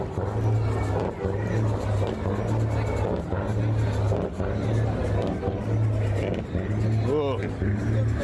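Truck engine idling at the Ottawa trucker protest, a steady rhythmic pulsing rumble with a possible air leak, close and loud under crowd babble and nearby talking.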